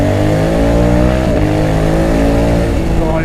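A 2020 Honda Africa Twin 1100 motorcycle engine accelerates hard, a loud, close, continuous roar with rising harmonic tones and a brief dip as it shifts and climbs again.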